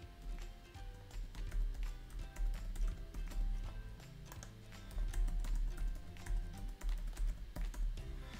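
Fingers type steadily on a computer keyboard, producing quiet, close clicks and taps in a continuous, uneven rhythm with brief pauses.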